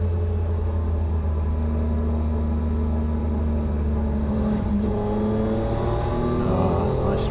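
A Triumph Tiger 800 XRT motorcycle engine hums steadily while riding the Grossglockner road, a constant low drone with slight pitch shifts as speed changes, heard from the rider's position with wind noise.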